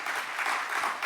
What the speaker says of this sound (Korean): 먼저 박수 한번 하겠습니다.